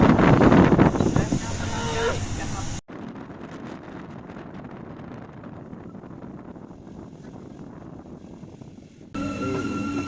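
A train in Germany rumbles along with steady wind rush and rattling; loud voices and clatter are heard briefly at the start and end.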